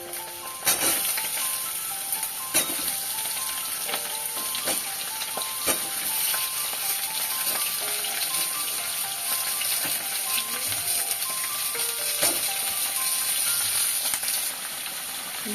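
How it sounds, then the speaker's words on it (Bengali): Pumpkin, potato and drumstick pieces fry in hot oil for a Bengali dish, giving a steady, dense sizzle throughout with a few scattered crackles and light stirring knocks, close and fairly loud, no voices. "ওই যে ডাটা কুমড়ো আলু একটু ভাজা হয়েছে"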